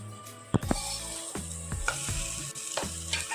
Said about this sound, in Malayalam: ഇതൊന്ന് ഷാലോ ഫ്രൈ ആക്കി വറുത്തെടുക്കണം